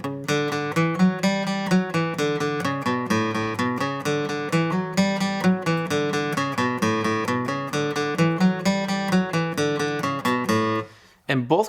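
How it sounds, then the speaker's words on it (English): A bass line doubled on electric guitar from a song plays in a steady, driving rhythm of repeated plucked notes, loud and alone, with a brief drop near the end. "And then we have a bass line, which is actually doubled up on the guitar, and it sounds like this"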